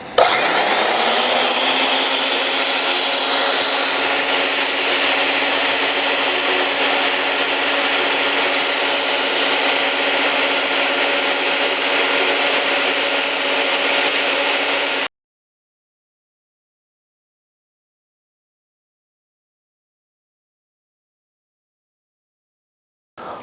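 A Milwaukee magnetic drill runs on a steel plate welded to a Cat mini loader. It gives a loud, steady motor whine with a grinding rasp for about fifteen seconds, then stops abruptly, leaving silence.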